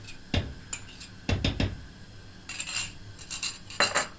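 A spoon scoops heaped pepper paste and tomato paste into a clay pot for bean stew. Several sharp metallic clinks and scrapes against the pot come close by in two short bursts, with no talking.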